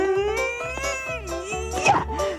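A cat meows repeatedly in drawn-out, wavering cries that rise and fall in pitch, over a faint rhythmic thumping beneath.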